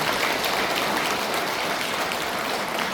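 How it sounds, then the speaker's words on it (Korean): Warm applause from the congregation at a Buddhist temple service, a dense, steady roar of many hands clapping throughout, with no speech over it. "뜨거운 박수 부탁드리겠습니다"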